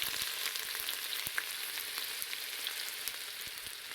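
Garlic and ginger fry in about half a cup of hot oil, giving a steady, bright sizzle with scattered pops and crackles, close and constant, with no voices.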